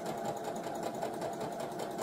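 Sewing machine running steadily at an even pace while sewing a straight stitch on fabric for an infinity scarf, a continuous close mechanical whir with no talking.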